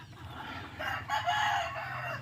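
A rooster crows faintly in the distance, a drawn-out call rising over a low background rumble.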